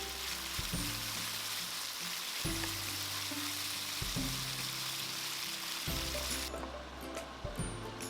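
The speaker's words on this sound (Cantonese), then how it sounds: "將牛肉兩面煎到佢焦焦地，大概每面煎大概30秒到1分鐘左右啦。" Beef sears in a hot wok, giving a steady, close sizzle that holds the whole time, with a low tonal hum underneath and no voices.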